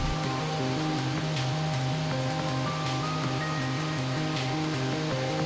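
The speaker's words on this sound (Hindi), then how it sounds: "तो बस थोड़ा थोड़ा करके इसको ऐड करना है और ब्लेंड करते जाना है।" A blender runs steadily while homemade mayonnaise is made with oil added a little at a time, a continuous loud whirring motor hum throughout with no pauses.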